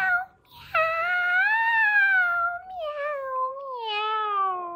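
A voice imitates a cat's meow with long, drawn-out wailing tones that slide down in pitch, repeated in a few stretches, as a vocal warm-up for young singers.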